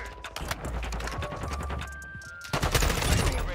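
Gunfire in Modern Warfare 2, sharp rapid shots cracking in quick bursts across a busy match, a loud barrage resuming near the end, with faint talk underneath.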